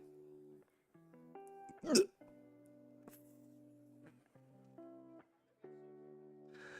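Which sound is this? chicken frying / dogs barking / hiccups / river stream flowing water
hiccups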